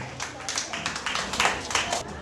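Audience applause at a primary-level Hindi school quiz, a loose scattering of hand claps in uneven bursts of moderate loudness.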